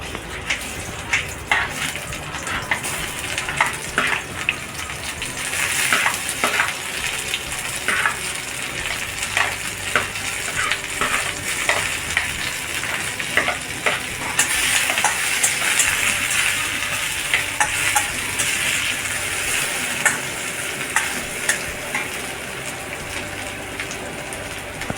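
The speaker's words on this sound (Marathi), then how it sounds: "आता कढईमध्ये तेल टाकल्यानंतर तेल छान तापल्यावर त्यात कांदा घालायचा" Onion frying in hot oil in a kadhai for street-style Hakka noodles, a steady dense sizzle with crackling pops that runs the whole time and swells a little partway through, close and fairly loud, with no talking.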